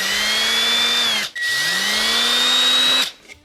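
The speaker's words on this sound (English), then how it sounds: "Once you get your pilot holes done with that small drill bit" A power drill with a small bit bores pilot holes for a vehicle phone mount, two loud steady whirring runs separated by a brief pause, close to the microphone.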